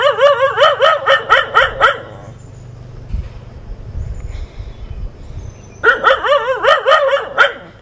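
A dog barks loudly and rapidly in a burst at a house yard in Wayanad, Kerala, pauses for a few seconds of quieter background, then barks again in another rapid run.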